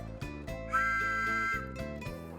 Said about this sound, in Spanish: El cartero se anuncia en su llegada con el famoso silbato